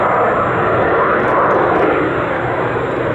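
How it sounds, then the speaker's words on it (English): A fly-by-wire jet with canard foreplanes makes a slow pass at about 110 knots at the Duxford Battle of Britain air show, a loud, steady roaring engine wash that fills the whole stretch without fading. "as Turbo then positions the aircraft in for the slow pass, coming towards us at just 110 knots"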